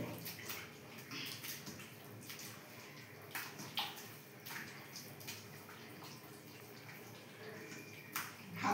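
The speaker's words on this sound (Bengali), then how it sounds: "আর একটু জল দিতে হবে।" Water is added to a batter of semolina, gram flour and rice flour, making faint, close trickling and splashing with soft intermittent clicks and stirring, quiet throughout with no talk.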